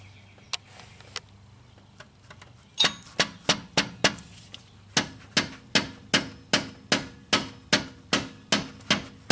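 Hammer taps on a car engine part of a Dodge Nitro under repair, a few scattered knocks, then a steady run of sharp, evenly spaced metallic blows close by.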